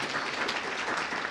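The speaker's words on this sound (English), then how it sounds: "Once again, a warm round of applause for our panelists, our moderator." An audience gives a warm round of applause for the panelists and moderator at a tripartite dialogue event. The clapping is dense, steady and sustained, with no talk over it.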